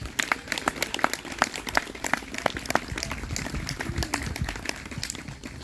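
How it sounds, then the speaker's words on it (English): Scattered audience applause at a school band awards ceremony honouring award winners, a room of hands clapping with sharp, uneven claps that carry steadily for several seconds. "A round of applause for all of our award winners,"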